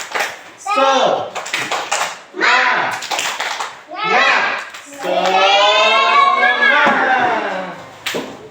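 A classroom of children chanting and clapping together in the tepuk semangat routine, several rhythmic bursts of claps mixed with shouted young voices, loud and close, ending in a sustained group shout.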